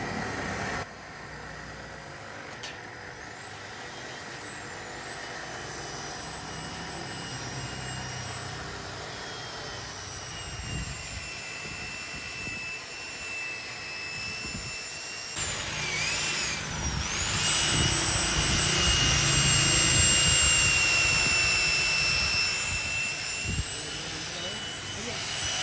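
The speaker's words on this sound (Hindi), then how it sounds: "ये ब्रास का पाइप है, उसके ऊपर ये पॉलिश वगैरह भाई कर रहे हैं" A steady high whine from a polishing machine buffing a brass pipe in a local brass furniture workshop in Lahore, growing louder and rougher midway, with a person talking nearby.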